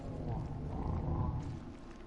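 A giant worm creature in the video game Metro Exodus lets out a deep, rumbling roar, heard alone in one sustained low growl lasting about two seconds.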